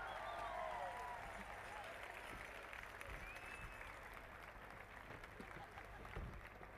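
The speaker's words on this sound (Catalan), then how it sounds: "Un fort aplaudiment més gran per en Tortell Portona!" Applause from a crowd at the closing event of a Catalan school mobilisation rally, steady and dense but fairly faint, with voices and whistles mixed in throughout.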